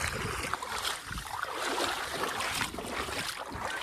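Rough open sea in a small motorboat just outside a bay, with a constant broadband wash of waves slapping the hull and wind buffeting the microphone, loud and continuous with no talking.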